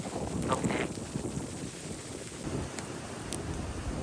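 Wind blows across an open field, buffeting the microphone with a steady rushing roar and a few stronger gusts.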